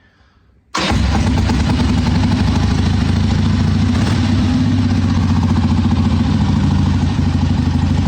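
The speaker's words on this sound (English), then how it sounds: "Hit the start button because we found neutral last time, luckily." A 1981 Harley-Davidson Ironhead Sportster XLH V-twin fires up after a brief quiet moment and settles into a loud, steady, close-up idle with a rhythmic low thumping.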